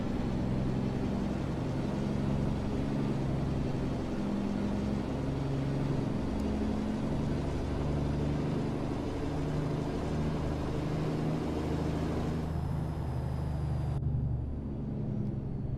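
An American Truck Simulator truck engine labours steadily uphill in winter with tires slipping, a continuous low drone and rumble that holds constant before the upper hiss drops away near the end; no voices.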